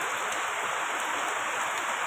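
Heavy rain during a stormy day in the Philippines falls as a steady, dense hiss, constant and unbroken throughout, with no voices.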